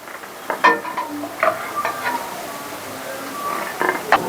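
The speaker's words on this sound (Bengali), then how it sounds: "এবার এক একটা করে ছেড়ে দেবো, পকোড়ার মতন ভেজে আগে তুলে নেবো।" Fish pieces deep-fry in hot oil like pakoras, giving scattered crackles and pops with occasional stirring clicks at close range and no talking.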